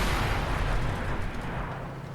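KV-2 tank cannon firing in World of Tanks, a dense booming blast rolling into a long rumbling decay that fills the whole clip.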